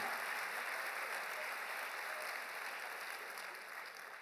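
A church congregation applauds steadily, a dense even patter of many hands clapping, moderately distant and sustained, fading slightly at the end.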